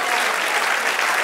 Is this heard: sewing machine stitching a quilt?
no